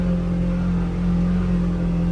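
A 2024 Polaris Xpedition engine hums in a steady, loud drone at high RPM in low gear, a constant tonal whine with no voices.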